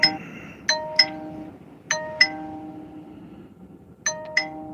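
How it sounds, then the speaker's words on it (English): Electronic notification chimes go off repeatedly in pairs of bright dings with a lingering tone between them, fairly loud and close against a low background hum, with no talking. "That was probably notifications"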